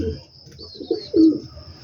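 Pet pigeons coo in low, throaty bursts close by, two louder rolling coos standing out over a faint steady background hum.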